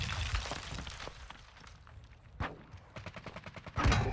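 A shotgun fires repeatedly during online first-person shooter play. Several sharp, booming blasts come at uneven intervals, with a final louder burst at the end, all over faint in-game background noise.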